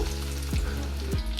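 Breadcrumb-coated eggplant cutlets fry in hot oil, a dense, steady sizzle and crackle with a couple of soft stirring knocks, close up and without talking.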